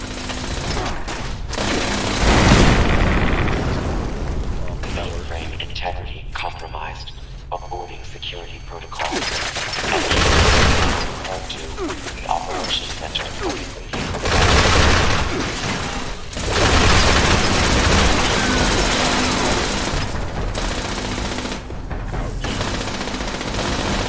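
Turret gunfire and explosions in a Fallout video game, loud sustained bursts of rapid automatic fire broken by heavy booms, with a voice talking between the volleys.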